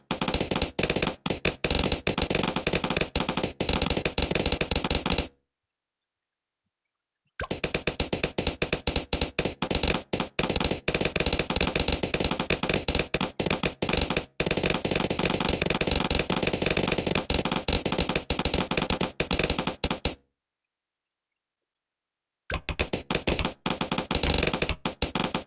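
Twin guns in Bloons TD 6 fire in long, rapid streams of sharp ticking shots, much like a typewriter or machine gun. The fire halts twice for a couple of seconds before resuming.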